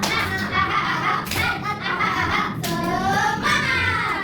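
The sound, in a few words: class doing 'tepuk semangat' rhythmic clapping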